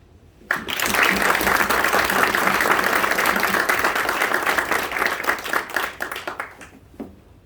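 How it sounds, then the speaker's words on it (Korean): An audience at a professor's farewell lecture breaks into warm, sustained applause that starts suddenly, holds strong for several seconds, then tapers off into a few last claps. "교수님을 지켜보는 저희 모두 존경과 사랑을 담은 열띤 박수를 보내드립니다."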